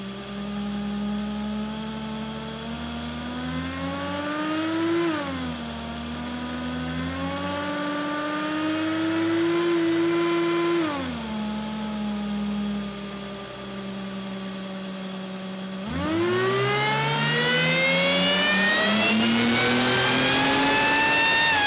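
A supercharged Mercedes OM606 diesel engine revs hard in three sustained pulls, pitch climbing and dropping between each, ending in a loud, high-revving final run with strong harmonic whine.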